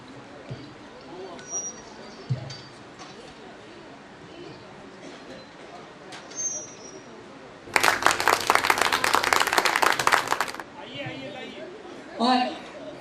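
Audience applause at a staged performance of the Bundeli play Lala Hardaul in the Deendayal auditorium: a loud, dense burst of clapping lasts about three seconds midway, framed by murmuring crowd noise and scattered talk.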